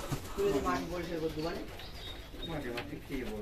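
A black homer racing pigeon coos in low, soft rolling phrases nearby, with a person talking over and between the calls.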